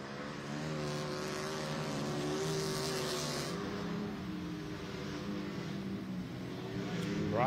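Racing motorcycles, Indian bikes on a New York short-track dirt oval during qualifying, drone and roar past at a distance, their engine whine rising and falling in a continuous, fairly faint blur.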